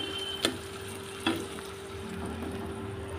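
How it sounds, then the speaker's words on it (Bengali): A pan of fried fish keeps sizzling as tomato sauce and spice water are poured in. A steady hiss sits close by, broken by two sharp clinks of a utensil, and no one speaks. "এবার আমি এর মধ্যে এই টমেটো সসের আর মশলা ধোয়া জলটা দিয়ে দেব।"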